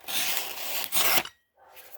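A knife blade is hand sharpened on a cheap diamond plate, close-up rasping strokes, a long scrape followed by a shorter one, then a pause and a fainter stroke.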